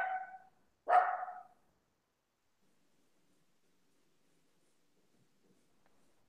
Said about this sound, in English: That's because my dog is being an idiot.